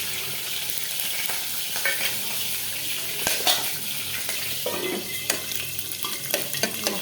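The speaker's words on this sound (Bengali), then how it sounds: "মশলাটা ভাজা ভাজা হবে।" Spices, cardamom among them, fry in hot oil in a pan while being stirred: a steady close sizzle with scraping spoon clicks and small pops throughout.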